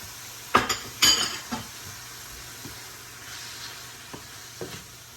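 Clinks of a utensil against a frying pan as plum tomatoes are stirred in, with a few sharp scraping knocks early on and softer taps later over a low steady sizzle.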